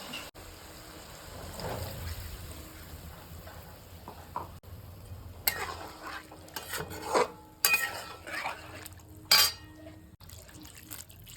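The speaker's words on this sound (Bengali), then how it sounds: "তো আমি এই যে মিক্সির বাটি ধোয়া জলটা দিয়ে দিচ্ছি" Rinse water from a mixer-grinder bowl goes into a pan of potato, okra and morola fish curry with soft splashes and gurgles, followed by several sharp metallic clatters of utensils against the pan near the end.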